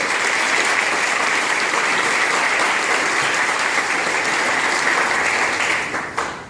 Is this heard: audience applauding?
yes